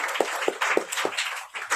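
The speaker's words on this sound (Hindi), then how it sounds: "यार एक जोरदार तालियां तो बजाओ" An audience claps at a franchise business presentation, a short run of sharp, evenly spaced hand claps, fairly close and loud, rising into a busier patter of applause near the end.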